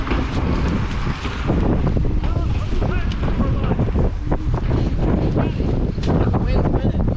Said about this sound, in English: Wind's winning.